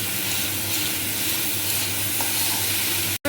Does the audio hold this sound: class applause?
no